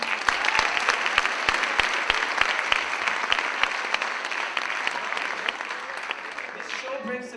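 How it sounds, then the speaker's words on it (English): Audience applause for the participants of a community show, a dense steady clapping that fills the room for several seconds before thinning out toward the end. "How about a round of applause for them?"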